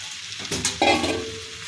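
Mourala fish going into a pan of frying tomato, with a couple of close clattering drops followed by a steady, moderately loud sizzle and stirring.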